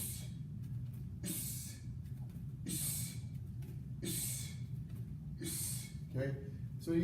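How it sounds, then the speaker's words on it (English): During boxing strikes, a person makes sharp hissing exhales in a steady rhythm, five or six quick bursts spaced about a second and a half apart, close and clear over a low background hum. "I'm making like a little hissing sound. I'm monitoring my breathing."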